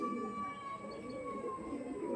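Pigeons coo softly in a low, continuous murmur under a steady background hum.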